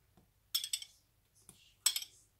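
A metal spoon clinks against a mixing bowl as spoonfuls of oil go in for a seven-spoon coffee cake batter, three close, bright clinking bursts with short gaps between them.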